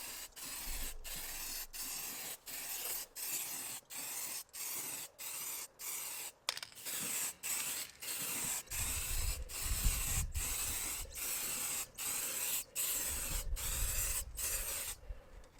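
Cheap lacquer is sprayed from an aerosol can onto painted steel car wheels in a rapid series of short, evenly repeated hissing bursts, close and steady, with faint rubbing sounds underneath.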